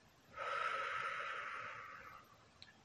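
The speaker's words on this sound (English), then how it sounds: "you can breathe in and breathe out" One slow, soft breath during a calming exercise, drawn in and released over about two seconds, heard faintly and close.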